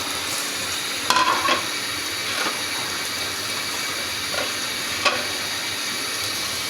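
Potatoes and khichuri spices fry in a pan, a steady sizzle with occasional stirring scrapes and clinks, close and continuous without talk.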